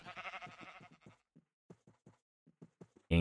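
A glow sheep bleats in a video game, a short rough bleat followed by a scatter of soft knocks and clicks, ending with a sudden loud thump.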